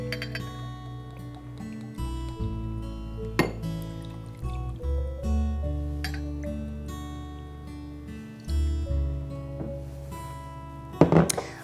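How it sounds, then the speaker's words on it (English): Bourbon, about two ounces, pours into an old fashioned glass over a large ice cube, with clinks of glass and ice and a brief trickle of liquid at close range. "I'm gonna pour in just about 2 ounces of bourbon"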